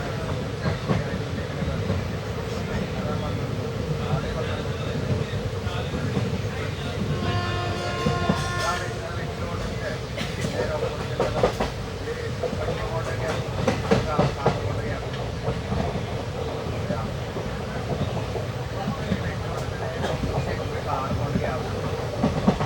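The 12134 Mangaluru–Mumbai Superfast Express rumbles along the rails in a steady, loud roar, with wheel clatter and clicks over rail joints and a brief whistle-like tone partway through. A voice talks over part of it.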